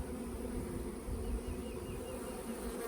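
Honey bees drone steadily around hive frames in a two-frame nuc, a continuous soft buzzing hum with no voices.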